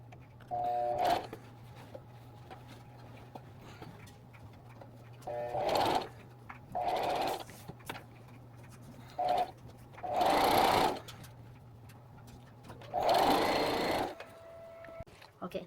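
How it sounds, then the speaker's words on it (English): Sewing machine stitching fabric for a homemade Invincible superhero suit, running in several separate bursts of a second or two, loud and close, with pauses between runs and a low steady hum underneath. "I'm pretty excited to start sewing"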